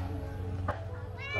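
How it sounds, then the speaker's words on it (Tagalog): A cat gives a brief, faint meow at night, nearly masked by steady low background hum and a person's voice nearby. "Mga pusa."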